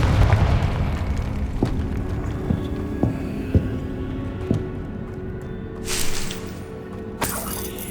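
A Confringo fire-explosion spell cast in Hogwarts Legacy, heard as sharp booming impacts over a rumbling game soundscape with bright crackling bursts near the end.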